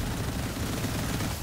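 Rapid, continuous SMG fire in the video game Immortal: Unchained, a dense loud stream of shots packed closely together with no pauses.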